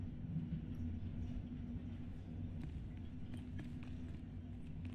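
Video game train rumbling steadily along, a low continuous rolling drone with faint clicks and taps on top, fairly quiet throughout.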